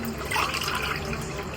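Water is poured steadily into soaking rice in a pot for mushroom biryani, a continuous close splashing and gurgling that stays even throughout with no voices.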